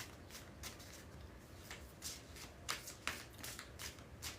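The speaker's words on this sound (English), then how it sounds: "Make sure these cards are good and shuffled." Tarot cards riffled and shuffled by hand in repeated soft bursts, faint and close, with no talking.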